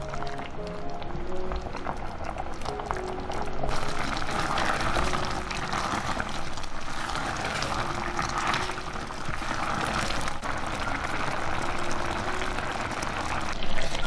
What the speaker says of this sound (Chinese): 我们的杨梅呢已经熬了1个半小时了，现在汤汁已经开始慢慢变浓稠。